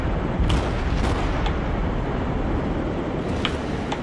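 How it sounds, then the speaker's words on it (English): Warship guns fire in the naval battle game World of Warships, with heavy booming salvos over a constant dense rumble of engine and sea noise and several sharper reports standing out. "just start laying withering fire into this guy"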